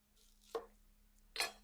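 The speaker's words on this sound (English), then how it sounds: "so we're going to chop up a little onion" A knife chops through onion on a cutting board in two separate, crisp strokes about a second apart, close by with quiet room hum between them.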